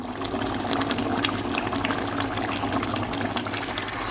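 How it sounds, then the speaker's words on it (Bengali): A pot of pumpkin curry with only a little water bubbles and simmers steadily on the stove, giving a continuous close-up hiss and burble with no one speaking. "এখন এটাকে ফুটতে দেব পাঁচ মিনিট"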